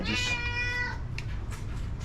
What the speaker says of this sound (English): The cat wants fish.